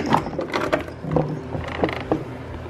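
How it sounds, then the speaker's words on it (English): A screw being backed out during repair of a Mytee Lite II 8070 extractor pump, giving close, dry creaking and ratcheting clicks in short irregular bursts with no talking. "just removed that screw"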